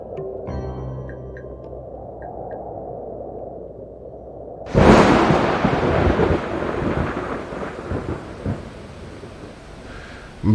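Soft music gives way to a sudden, close crack of thunder, followed by a heavy, continuous roar of monsoon rain with further rumbles rolling underneath.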